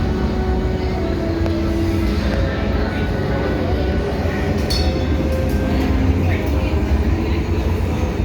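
A theme park train ride in the Lost Continent area of Islands of Adventure rolls past with a steady loud rumble and hiss, constant throughout, with brief higher squeals partway through.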